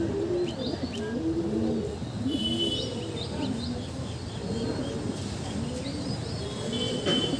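A pet pigeon back home after a day away coos in repeated low, rolling phrases, close and clear, with light higher chirps from other birds scattered over the top.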